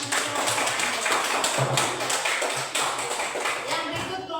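A class in an Indonesian science (IPAS) lesson claps for a student group after its presentation: a dense, steady patter of many hands that fills the room for several seconds, with voices mixed in.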